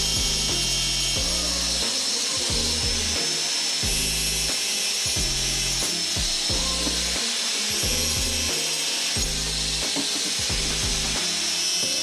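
Metal reliefs are trimmed on a 1930 Ford hot rod part with a power tool that cuts in short, loud, steady bursts, stopping and restarting in a regular rhythm.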